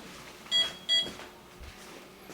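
Two short electronic beeps from an HC-SR04 ultrasonic proximity sensor alarm ring out close together, followed by quiet background hum and faint shuffling.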